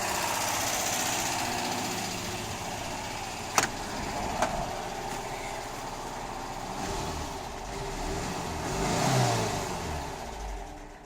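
A camper van engine idles on its automatic choke, a steady mid-pitched running drone with a couple of sharp clicks early on and a slight rise in revs near the end.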